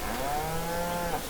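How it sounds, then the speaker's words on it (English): Angus cattle on a farm, a single loud, close moo held steadily for over a second with a rough, resonant tone. "We have 120 head of Angus cattle, the younger ones"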